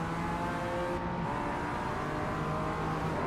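GT4 race cars in the iRacing video game at Mount Panorama, heard onboard during a collision that sends both cars into the barrier: a constant loud engine drone with a brief harsh shift near the middle.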